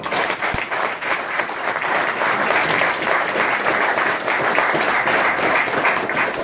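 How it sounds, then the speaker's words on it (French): An audience applauds prize-winning farmers at an agricultural innovation awards ceremony, producing dense, sustained clapping from a sizeable crowd that stays loud and even from start to finish. "vous prie donc bien de vouloir les applaudir"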